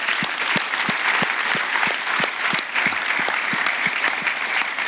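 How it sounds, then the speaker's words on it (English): Crowd at a satellite launch event for the Biomass mission gives a big, sustained round of applause, with a few sharp nearby claps punctuating the dense background clapping. "I ask you to pay one big applause to these people who are sitting here"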